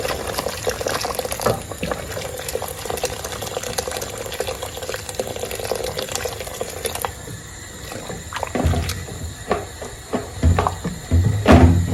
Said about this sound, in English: I'll go ahead and add water to my peanut, stir it in